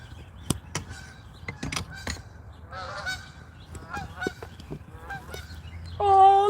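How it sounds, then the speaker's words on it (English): A flock of geese honks while flying overhead outdoors, uneven bursts of nasal calls rising and falling, fairly near and growing louder toward the end, with no talking. "The geese are flying."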